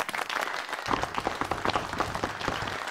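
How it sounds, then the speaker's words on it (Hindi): Audience applause breaks out in a royal court scene from a comedy series, starting quieter and swelling into dense clapping that runs steadily for a few seconds. "तालियां।"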